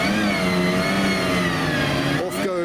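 A GMA T50 supercar at a car park revs hard and pulls away. A loud, steady high-pitched engine note runs throughout, with a short dip and a sharp jump in pitch near the end.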